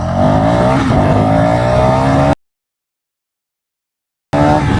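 A 350cc sports bike accelerates hard from a standstill toward 60, its engine loud and close and climbing steadily in pitch. The roar cuts off abruptly into silence for about two seconds, then resumes.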